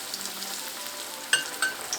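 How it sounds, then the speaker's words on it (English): Battered fish fillet frying in hot oil in a kitchen, a soft steady sizzle with a few sharper crackles and pops near the end, fairly quiet and close. "Gently and carefully lower the battered fillet in the hot oil."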